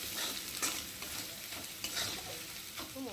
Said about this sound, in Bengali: দিয়ে মশলাটা ভালো করে তেলের মধ্যে ভেজে নেব